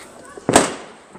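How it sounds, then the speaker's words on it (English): A single firework bursts with a sharp, loud crack nearby, then its noise fades over half a second against quiet outdoor background. "I don't know where the fireworks are."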